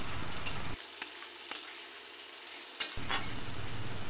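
Onions sizzling in a pan with a little sugar, a steady close fry broken by a brief quieter gap and a few sharp utensil taps.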